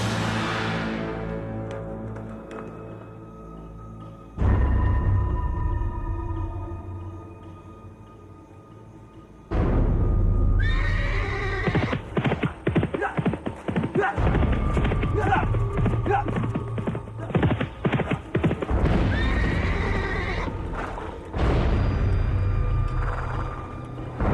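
Horses clip-clopping and galloping on the ground, with hoof beats in bursts separated by quieter gaps, close and fairly loud, mixed with shouts and voices.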